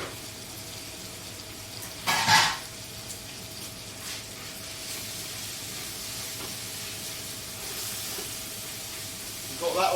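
Garlic, oil and prawns sizzling steadily in a hot pan for seafood linguine, a constant hiss with a couple of louder bursts of spitting, fairly close and heard alone.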